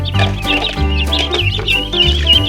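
Ducklings peep close by in a quick, insistent chorus of high chirps, over a low droning tone with a regular pulse in the background.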